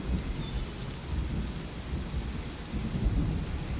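Heavy rain pours steadily with low rolling thunder rumbling underneath, a dense continuous wash of sound with no voices.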